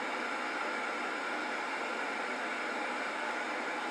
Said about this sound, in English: Increasing the white noise here.